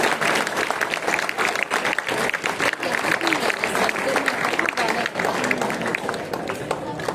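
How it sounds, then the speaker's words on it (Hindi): Schoolchildren clap loudly and steadily for a chief guest at a school National Sports Day celebration, a dense, continuous roar of many hands close by that holds throughout. "बच्चों जोरदार तालियों से बजाइए हमारे मुख्य अतिथि के लिए."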